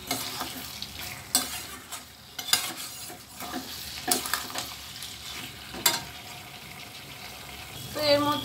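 Slit green chillies fry in oil for a pointed gourd and paneer curry. Repeated spoon clatters and scrapes sound over a light, steady sizzle, with a brief voice near the end.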